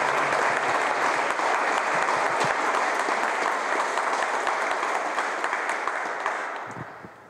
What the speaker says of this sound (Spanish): les pido un aplauso para todos ellos